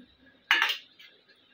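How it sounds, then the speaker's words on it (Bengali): A utensil clinks and clatters once against a bowl as two eggs are beaten with salt for Mughlai paratha, a short bright burst followed by faint quieter taps. "ভালো করে এটা ফেটে নিতে হবে।"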